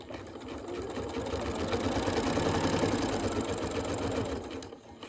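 Steady whirring drone of a sewing machine stitching a quilted fabric table runner, running continuously at close range and tapering off at the end, with no talk.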